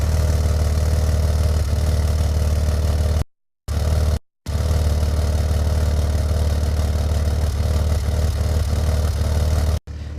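A 1999–2004 Jeep Grand Cherokee WJ with a failing idle air control valve idles roughly, a loud, close, continuous engine drone broken by brief sharp cut-outs where the idle stumbles.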